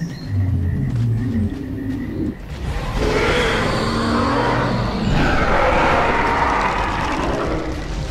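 A dinosaur trailer sound effect: a low rumbling bed gives way to a loud, broad, rushing swell that holds through the rest of the stretch, dense and close with no talking.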